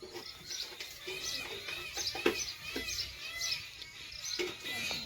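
A sparrow chirps around a family home, short high tweets repeating at an uneven pace, faint and somewhat distant over a soft background hum.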